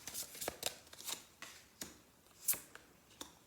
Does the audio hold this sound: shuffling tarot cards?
yes